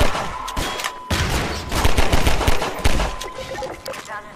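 Rapid gunfire from a weapon in Half-Life 2, a dense run of loud shots with brief pauses, mixed with game explosions and sound effects.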